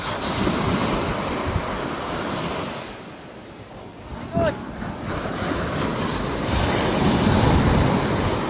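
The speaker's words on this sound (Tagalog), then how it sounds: "You can't stop the wave!" Ocean waves break and wash up on a shore, a loud, continuous roar with heavy wind buffeting the microphone and a brief vocal sound partway through.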